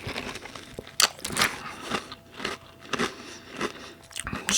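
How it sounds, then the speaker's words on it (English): Crunchy breakfast cereal such as Honey Bunches of Oats or Raisin Bran Crunch is chewed close to the microphone, with repeated sharp crunching bites in an uneven rhythm. "if you're one of those people where like the sound of chewing bothers you, this show's probably not for you"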